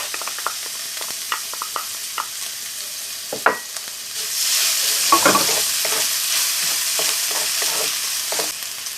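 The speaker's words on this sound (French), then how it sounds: "on va venir faire revenir notre ail et notre gingembre à feu vif" Chopped garlic and ginger fry in a spoonful of oil over high heat, a dense sizzle that swells loudly midway, with spatula taps and stirring scrapes throughout.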